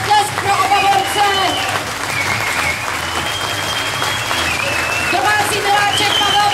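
A crowd applauds both fighters after a fast, hard knockout bout at an amateur brawl event, loud continuous clapping filling the hall while an announcer's voice carries over it.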